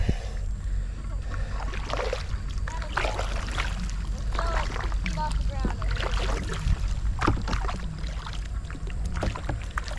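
A folding Oru kayak is paddled on a lake, with water splashing and paddle strokes close by under wind buffeting, while people talk over it.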